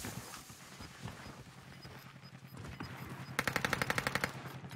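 Submachine gun fire in a video game, a rapid string of about a dozen evenly spaced shots near the end, loud and close over a busy game background.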